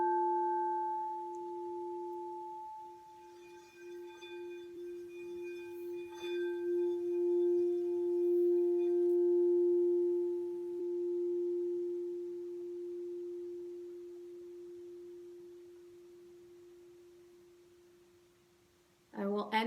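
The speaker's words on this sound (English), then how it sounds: "I will take out my sound bowl, my crystal bowl, and I will end the session." A crystal singing bowl rings with a steady, pure sustained tone and soft overtones, swelling slightly then slowly fading over about twenty seconds, alone and near.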